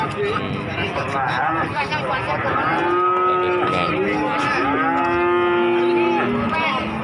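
Cattle moo loudly and repeatedly, with long drawn-out calls at close range, amid the murmur and chatter of traders at a busy livestock market in Pati, Java, where calves are being sold.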